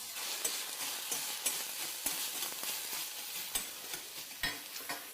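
Potato salad dressing fries in a pan and is stirred, giving a soft constant sizzle broken by regular scraping taps from the spoon.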